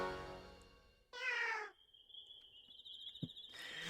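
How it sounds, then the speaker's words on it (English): Cat-like Digimon cries from the game Digimon World: Next Order, a meowing call followed by a bright sustained chirping tone and another short cry, clear and close against a quiet backdrop. "I still find that the Digimon sound like freaking cats."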